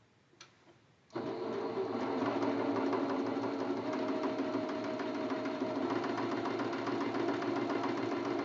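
A sewing machine stitches a section of a quilt block, starting abruptly after a second of quiet and then running steadily with a fast, even mechanical hum and rattle, close and alone.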